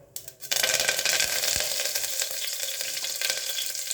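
Mustard seeds and curry leaves hit hot oil for sambar, setting off a loud, steady crackling sizzle up close that carries on without a break.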